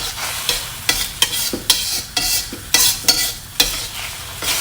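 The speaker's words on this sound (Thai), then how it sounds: "ก็จะคั่วไข่นะคะ ให้แค่เขาพอสุกก่อนนะคะ" Eggs stir-fried in pork lard for a home-style fried rice noodle dish, a loud close sizzle punctuated by rhythmic spatula scrapes and tosses against the pan, with no voices.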